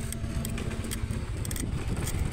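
Honda Airblade scooters ride past on a country road, their small engines buzzing and droning steadily with wind rush, close and continuous.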